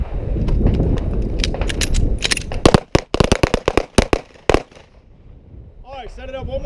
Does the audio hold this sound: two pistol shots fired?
yes